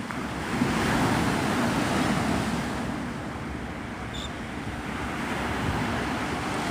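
Ocean surf rolls onto Pensacola Beach, Florida, as a continuous broad wash that swells and eases, with wind rumbling against the microphone and no voices.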